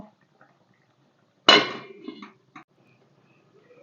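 A metal lid set down onto a cooking pot of simmering potatoes and drumsticks gives a single sharp clatter with a brief ringing rattle, followed by a few faint knocks in an otherwise quiet kitchen.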